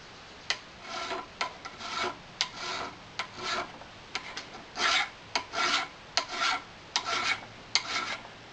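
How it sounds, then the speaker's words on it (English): Brass being trimmed off a king pin with a file, a close, steady series of rasping strokes in an even rhythm, about fourteen in all, with no talk. "it's best just to trim the little bit of brass off"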